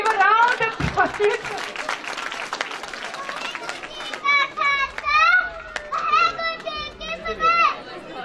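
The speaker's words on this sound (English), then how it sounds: "So please give a round of applause." Audience applause at a school annual day for LKG children, dense clapping that fades into children's excited chatter and shouts close by.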